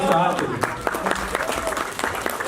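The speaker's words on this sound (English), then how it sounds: "Big round of applause for Aarti" Short burst of audience applause at a children's annual day event at a Hindu temple, scattered claps over crowd murmur and voices, fairly close and moderate in level.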